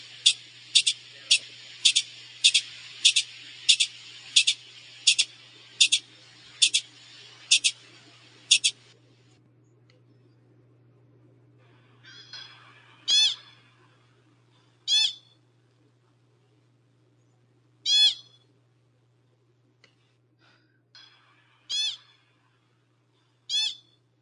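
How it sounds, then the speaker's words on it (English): Pika calls: a fast series of about a dozen high-pitched chirps in a row, then a pause and several separate sharper shrieks at irregular intervals, loud and close against a quiet background with a faint low hum. "I'll give you a little example of a pika vocalization."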